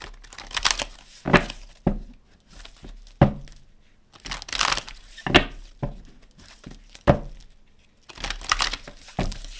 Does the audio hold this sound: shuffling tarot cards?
yes